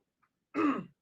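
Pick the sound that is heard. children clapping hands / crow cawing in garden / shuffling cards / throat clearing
throat clearing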